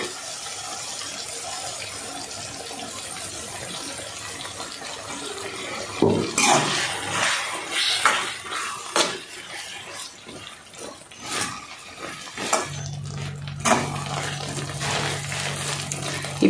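Water splashes and gushes into a pot of okra curry in several uneven pours after a quieter stretch, followed by a steady hum near the end.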